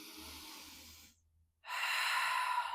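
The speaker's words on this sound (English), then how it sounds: "1 deep breath." A deep breath during a fitness class, a long audible inhale, a brief pause, then a strong breathy exhale, close and alone.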